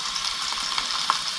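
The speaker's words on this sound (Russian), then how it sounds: "Жарится наши стейки." Steaks frying in a pan on a home kitchen stove give a steady, close sizzle with faint crackles and a few small pops, with no voices over it.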